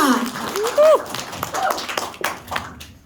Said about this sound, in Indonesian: Kita berikan tepuk tangan yang paling meriah untuk Platinum Dr. Jess from Korea